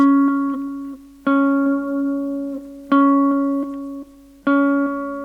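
Four repeated plucked electric guitar phrases with a string bend, each a sharp attack followed by ringing notes that decay, played clearly and alone with short pauses between.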